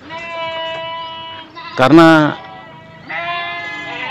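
Goats on a small livestock farm bleat in a loud, wavering burst near the middle, with a harmonic animal call before and after, while a person talks over it.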